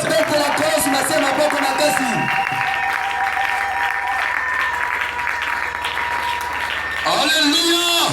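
Church congregation applauding and cheering loudly for Jesus, dense sustained clapping with crowd voices and music underneath, dipping briefly in the middle before swelling again.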